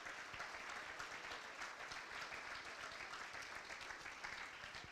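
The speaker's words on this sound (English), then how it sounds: "How about a nice round of applause?" Audience applause fills a high school fall sports awards banquet, steady dense clapping throughout at low, distant-sounding level, with no talk over it.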